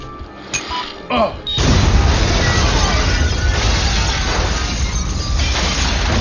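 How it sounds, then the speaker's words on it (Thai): A bomb hidden in an ice bucket and wired to a champagne bottle blows up in The Punisher (2004), a sudden heavy boom after a brief lead-in, followed by a long, dense rumble of debris and crashing that stays loud to the end. "หลังจากเกิดการระเบิดขึ้น"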